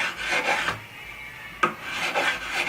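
Metal file rasping across the tops of guitar frets, a few close, slow back-and-forth rubbing strokes with short pauses between them.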